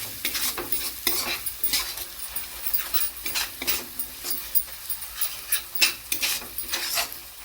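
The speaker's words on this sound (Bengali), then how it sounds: "এবার এই মশলাটাকে আমি এই সমস্ত কিছুর সঙ্গে ভালো করে আমি এবার ভেজে নেব।" Cumin, coriander, turmeric and chili spice mix frying and being stirred in a pan for chicken do pyaza, with close, steady crackling sizzle and repeated scraping stir strokes throughout.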